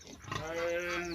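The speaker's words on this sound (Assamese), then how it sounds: "এয়া দেখিবলৈ পাইছে, মানে পোৱালি সহ গাহৰি আছে।" A pig on a piggery farm where a sow is kept with her piglets gives a short, fairly faint tonal squeal, heard alone for about a second.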